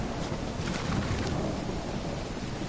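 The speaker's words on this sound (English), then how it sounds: "It's raining." Steady rainfall in the video game Call of the Elder God with a low rumble beneath it, a continuous wash of noise like a heavy downpour, no voices present.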